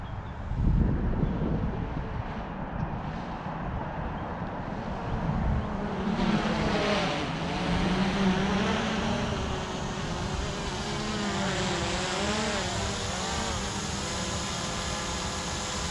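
An Autel Evo drone flies in for a landing, its rotors a steady buzzing whine that wavers in pitch as it nears and maneuvers, mixed with wind noise outdoors.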